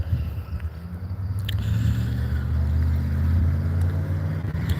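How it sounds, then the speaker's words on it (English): Car with a loud muffler, a deep steady exhaust rumble passing close by and holding for several seconds with no voices, fading slightly near the end. "Got a loud muffler."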